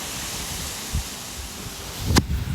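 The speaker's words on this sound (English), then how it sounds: "Look at the wind blowing the Chinese tallow." Wind blows through Chinese tallow tree leaves in San Antonio, Texas, giving a steady, soft broadband rustle with a brief low thump near one second and a stronger gust swelling near the end; no one speaks.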